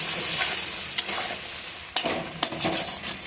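Capsicum frying in a pan with turmeric, Kashmiri chilli, salt and cashews for an egg curry, a steady hiss broken by a few sharp scrape-and-stir clacks, close and fairly loud, no voices.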